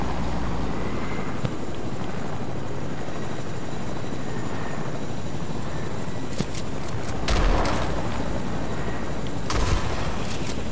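A helicopter flies in a multiplayer video game, its steady, loud rotor drone filling the whole stretch, with a few sharp bursts like gunfire or impacts near the end.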